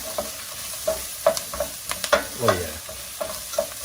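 Potatoes and onions frying in a pan over medium heat, stirred with a string of irregular scraping knocks over a soft sizzle, close and fairly quiet, with a brief spoken remark.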